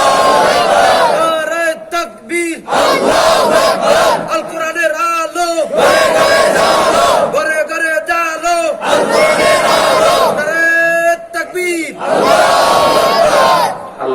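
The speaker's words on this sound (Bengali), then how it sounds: "মাঝখান থেকে একজন তাকবীর দেন।" A religious gathering's crowd chants the takbir in loud, rhythmic unison, the massed voices rising and falling in repeated call-and-response bursts that stay close and powerful.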